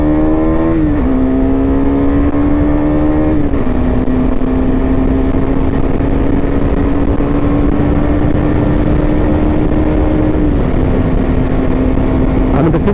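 A Husqvarna 250 motorcycle, a Svartpilen or Vitpilen, accelerates from 0 to 60, its engine pitch climbing steadily through each gear with brief dips at the shifts, loud and close throughout.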